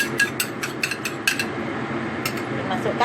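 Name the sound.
egg white stirred into hot wax gourd soup in pot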